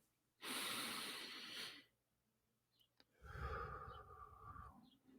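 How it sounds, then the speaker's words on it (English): Two deep breaths close to the microphone: a long airy inhale, a pause, then a slower, fuller exhale through the nose and mouth, quiet and unhurried. "Let's take 3 deep breaths."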